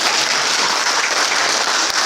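A church congregation applauds during a Sunday worship sermon, a dense, loud, steady wash of clapping from many hands filling the whole moment.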